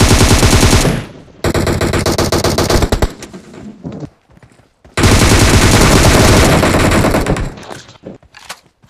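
Heavy automatic gunfire in PUBG while enemies are killed, long loud sustained bursts broken by short gaps, with a few quieter pauses between volleys and no talk over it.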